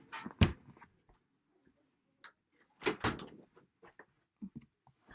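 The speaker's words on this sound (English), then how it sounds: "Hang on, I gotta close the door." An indoor door is pushed shut in a home, with a sharp thud early on, then a second heavier bang and latch clatter, followed by scattered small knocks and rattles in an otherwise quiet room.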